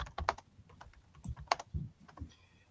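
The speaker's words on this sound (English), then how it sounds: "I'm just typing in the chat here" Keys on a computer keyboard tapped as someone types a chat message, a quick irregular run of light clicks and clacks close by, with no talking.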